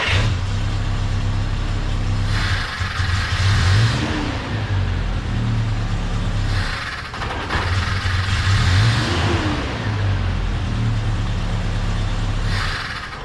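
An old pickup truck engine runs rough, its idle surging and sagging in repeated cycles as it nearly stalls and then picks back up, loud and close with no voices.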